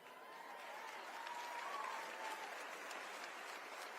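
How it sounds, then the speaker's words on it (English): Crowd at the AmFest political rally gives sustained, dense applause, a continuous wash of many hands clapping at steady volume with no clear speech on top. "Y'all brothers better be clapping too."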